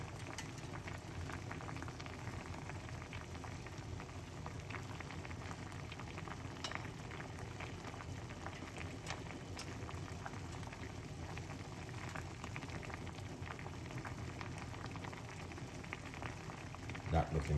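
Lemon garlic tea boils steadily in a pot, a continuous close bubbling and popping that stays even throughout, with a brief knock at the very end.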